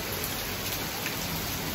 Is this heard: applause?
no